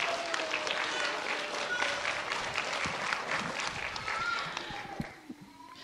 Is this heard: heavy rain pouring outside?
no